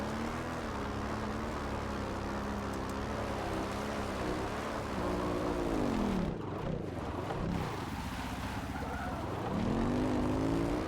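Engine of a motorbike in the sci-fi shooter game Planetside 2, whining steadily and shifting pitch as it descends a steep hillside, loud and continuous, alone without talk.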